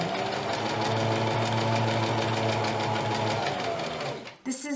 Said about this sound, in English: I'm going to go ahead and get moving and we'll go ahead and backstitch a tad